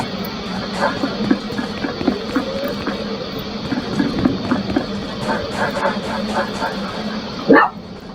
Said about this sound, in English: Just my dog barking.